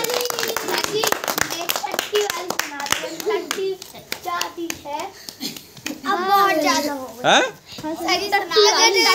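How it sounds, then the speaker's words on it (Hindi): Children clap their hands in quick, loud, uneven bursts, with sharp claps scattered across the clip while kids chatter and shout over and between them. "ठीक है चलो ताली बजाओ"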